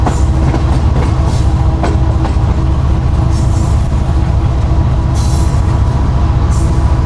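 Pak Business Express train rolling along the main line, with a steady loud rumble of wheels on track and faint rhythmic clatter, the noise continuous throughout with occasional hissing bursts.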